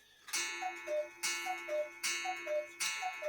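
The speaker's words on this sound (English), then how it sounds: "cuckoo clock going off." A cuckoo clock ticks in a steady, even rhythm and goes off, its two-note cuckoo calls repeating several times near and clear with no talk.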